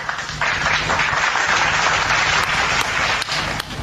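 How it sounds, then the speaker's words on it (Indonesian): An audience at a church gathering breaks into applause that starts abruptly, holds as a loud, dense clatter of clapping and tapers near the end. "Tepuk tangan."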